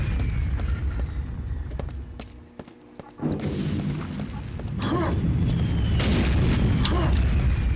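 Explosions in Quake 2, played in virtual reality on an Oculus Rift: a few heavy booming bursts and thuds over a continuous rumbling game soundscape, loud and close.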